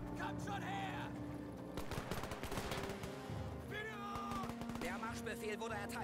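Machine guns rattle in Men of War 2 amid a World War II battle, bursts of rapid fire and scattered shots crackling over layered battlefield noise, with voices heard in the mix.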